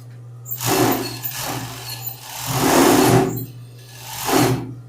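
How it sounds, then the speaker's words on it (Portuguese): A sewing machine stitches elastic onto children's pajamas, running in three loud close bursts of whirring stitching, with the presser foot lifted between runs and a steady low motor hum underneath. "Eu sempre começo a costurar, dou uma levantada no calcador depois, que é para poder o elástico esticar de acordo"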